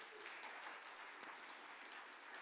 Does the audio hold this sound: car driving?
no